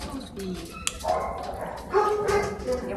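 A dog at an animal shelter makes short yips and whimpers close by, with people talking over it throughout.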